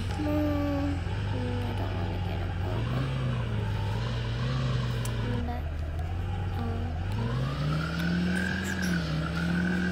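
Car engine in a video game driving through Blocksville Town, a steady droning hum whose pitch rises and falls with acceleration, running continuously under a voice.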